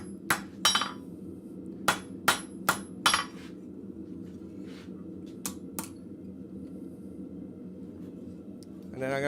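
A blacksmith hammers a divot into hot metal at a forge, a series of sharp ringing strikes in uneven clusters, loud and near, with quiet gaps between blows.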